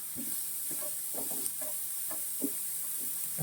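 Onion, ginger and green chili sautéing in a pan for prawn roast, with a faint steady sizzle and a regular series of soft stirring scrapes from a spoon, quiet and close with no talking.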